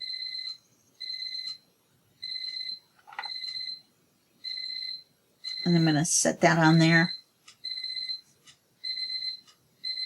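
An alarm clock beeps in regular short bursts of twin-tone pulses, near and clear. A person speaks briefly over it midway, and the beeping then keeps going.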